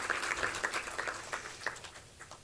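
Audience clapping at a Marathi book launch for Operation Sindoor, a brief, moderately loud burst of many hands that thins toward the end.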